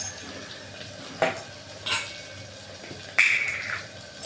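Turmeric and fenugreek powder frying in a pan for a chickpea curry give a low sizzle, with a few separate clinks and scrapes of a spoon against the pan, the last one brighter and longer.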